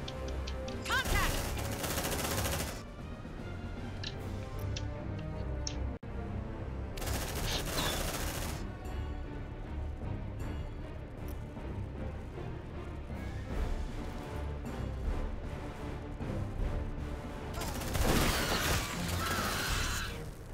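Heavy automatic weapon fire in Aliens: Dark Descent, long loud sustained bursts separated by short gaps, mixed with game music and effects, and a voice talking during the firefight.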